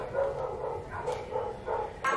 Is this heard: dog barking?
yes